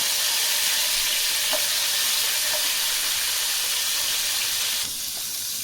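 Dried fish and turmeric fry in hot oil with a loud, steady hissing sizzle close by and a few faint taps, the sizzle dropping slightly near the end.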